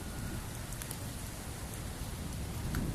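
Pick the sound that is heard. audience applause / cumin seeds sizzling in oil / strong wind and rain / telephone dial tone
strong wind and rain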